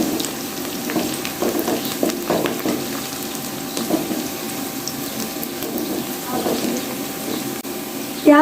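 Onions turning golden with whole spices in hot oil give a continuous low sizzle and hiss, with occasional soft stirring knocks and a brief clatter at the end.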